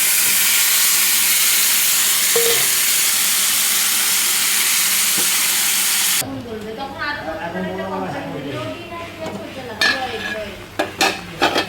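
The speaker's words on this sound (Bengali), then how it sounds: "বেশ টকবক করে ফুটেছে, মাছটা সিদ্ধ হয়ে গেছে।" Hilsa fish curry with garlic paste boils vigorously in a pan, a steady bubbling hiss for about six seconds before it stops and a person talks over light utensil clinks.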